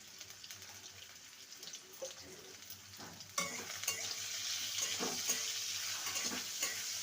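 Potato frying with a sprinkle of turmeric in hot oil in a wok, a steady close sizzle with stirring scrapes, growing louder and denser about halfway through; no voices.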